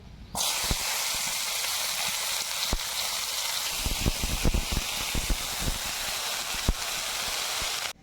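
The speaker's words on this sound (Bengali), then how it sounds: "তো ওটা এখন ভেজে নেব আমরা তেলে আমি এটাকে ভেজে নেব" Sliced lotus root drops into hot oil and sets off an abrupt, loud, continuous hiss and sizzle, with scattered crackles and pops on top that last until the end.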